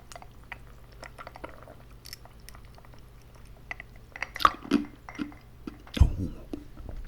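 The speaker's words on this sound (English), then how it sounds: "Ooh, bit of ice crunching." Ice crunched while eating outdoors in freezing weather, a few close, sharp crunches and bites near the end over quiet chewing and soft mouth sounds, without speech.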